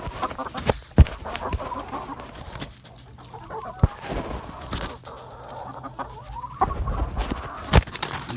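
Backyard chickens cluck and squawk as they leave their coop for the night routine, with scattered close calls and bursts over light rustling and a few sharp knocks.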